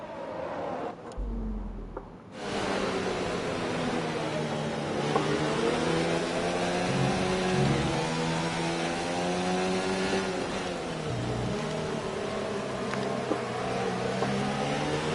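Engines of open-wheel Formula One cars from the F1 2019 video game at the British Grand Prix in rain, a loud, continuous rising and falling whine with gear shifts, steady throughout with no talk.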